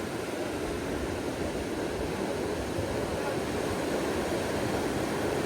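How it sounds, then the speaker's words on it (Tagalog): Big ocean waves roar as a broad, steady rush of surf around a small fishing boat at sea, continuous and loud with no clear breaks. "malaki yung alon, baka ibalikwas din yung bangka"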